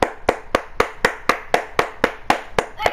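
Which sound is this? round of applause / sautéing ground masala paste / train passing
round of applause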